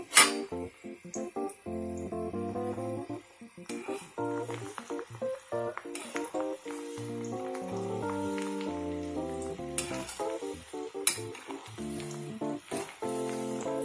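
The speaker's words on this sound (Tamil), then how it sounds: "இந்த 12 பூண்டு பண்டு எடுத்ததை தட்டி வச்சிருக்கேன் நான், நல்லா பொங்கி வருது பாருங்க, நல்லெண்ணெய் நல்லா அப்படி பொங்கி வருது" Sesame oil with crushed garlic bubbles as it heats, a faint crackling sizzle beneath louder musical tones.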